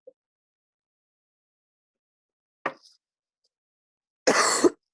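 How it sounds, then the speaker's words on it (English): A single short cough rings out loudly near the end, preceded by a brief faint throat sound in otherwise near silence. "I'm really sorry, I'm coughing in everyone's."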